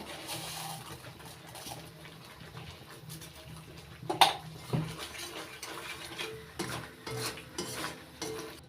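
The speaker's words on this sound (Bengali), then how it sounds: "এবার মশলার বাটি ধুয়ে জল দিয়ে দিচ্ছি একটু কষিয়ে নিচ্ছি" Spices and a little water being stirred and sautéed in a cooking pan for a cauliflower and paneer dish: steady scraping and stirring with soft sizzling underneath and an occasional clank of the utensil on the pan.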